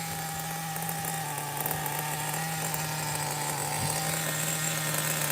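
Nitro engine of a Megatech Nitro Razor RC car idling at its lowest setting, a steady buzzing drone that holds evenly and fairly loud throughout, with no talk over it.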